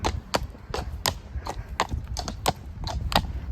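A horse's hooves clip-clop at a steady walking pace during an early-morning walk at a show-jumping competition, each hoofbeat a sharp distinct knock repeating about every third of a second, fairly close and without talk.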